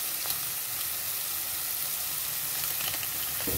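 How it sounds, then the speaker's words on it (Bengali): Mixed vegetables sizzle steadily in a frying pan as they are stirred, a dense close hiss with a few soft knocks toward the end. "এই দেখুন নাড়াচাড়া করে নিচ্ছি ভালো মতো"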